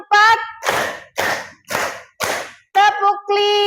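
A classroom group claps in unison during an ice-breaking counting game: four sharp, evenly spaced bursts of many hands, with a teacher's chanted voice before and after.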